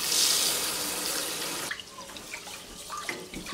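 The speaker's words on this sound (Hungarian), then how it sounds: "rizst meg kell mosni. Nem egyszer, nem kétszer, nem háromszor, hanem kb. 4-szer vagy 5-ször" Rice is washed in water: a loud gush of running water gives way to quieter sloshing, splashes and scattered drips, all close by.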